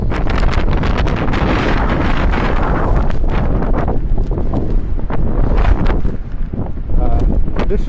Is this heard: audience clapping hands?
no